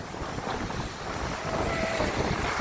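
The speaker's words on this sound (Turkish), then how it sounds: "Rüzgara meydan okuyorum." Strong wind at the sea buffets the microphone in a steady, loud roar with gusty low rumbling throughout.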